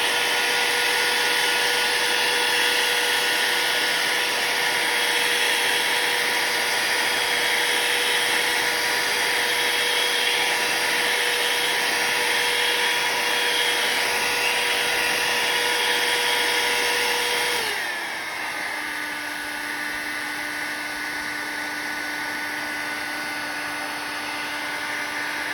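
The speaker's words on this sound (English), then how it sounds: "I use a blow dryer and we're going to dry this off" Hair dryer blowing to dry watercolor paper, a loud steady whirring drone held throughout, dropping in pitch to a lower speed setting partway through, with no talking.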